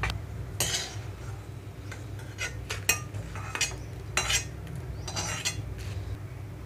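A spoon scrapes and clinks against a pan and plate as roasted ingredients for kandi podi are moved out, in light irregular taps over a low kitchen hum.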